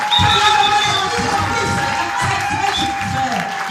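A church congregation claps and cheers in rhythmic waves, with a sustained musical tone and voices mixed into the crowd noise.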